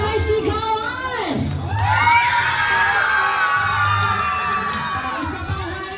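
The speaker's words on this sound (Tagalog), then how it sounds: "Isa mo na malakas na palakpakan na may sigawan!" Children shouting and cheering loudly at a birthday party, high-pitched whoops and shrieks rising together in a crowded room, swelling into a sustained noisy outburst with an adult voice heard at the start.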